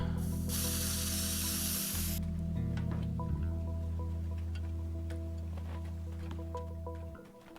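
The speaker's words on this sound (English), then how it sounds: "Spray can." A spray can hisses steadily in the game Teardown during a Pawn Shop escape run, a bright broadband spray lasting about two seconds over a constant low mechanical drone and scattered game ticks.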